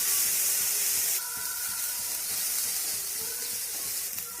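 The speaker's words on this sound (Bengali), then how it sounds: "এখন সব কিছু নাড়াচাড়া করে একটু ভেজে নেব।" Beans, carrots, onion and green chili stir-frying in a pan, a steady loud sizzling hiss running throughout with a brief scrape of stirring partway through.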